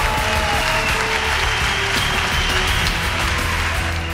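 A crowd at a Tel Aviv peace rally in 2015 applauds continuously, dense clapping spread evenly throughout, loud and sustained with no voices standing out.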